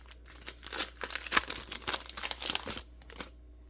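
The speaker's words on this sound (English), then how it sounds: "Can't even open a single pack of cards." Foil packs of baseball trading cards crinkle and tear open close up, a dense stretch of sharp crackling lasting a few seconds before it falls quiet.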